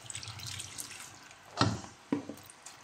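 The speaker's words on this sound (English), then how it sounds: "I'm going to be adding the stock water to it" Meat stock being poured into a pot of jollof rice, with a couple of distinct splashing bursts of liquid over a quiet kitchen background. No one speaks.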